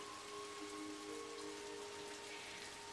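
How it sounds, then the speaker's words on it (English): Steady rain falling in Sydney, a dense continuous hiss of drops that stays even and fairly loud from start to finish, with a faint tonal hum underneath and no voices. "Rain here in Sydney"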